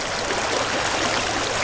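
River water rushes steadily through a Sidewinder gold sluice set on a stand in the stream, a loud, close, continuous broadband wash with no talking.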